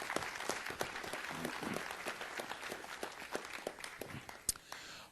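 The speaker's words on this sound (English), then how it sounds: "Please give him a nice round of applause." An audience at a city council meeting applauds, a faint, steady patter of many hands clapping in a large room, with scattered sharper claps standing out.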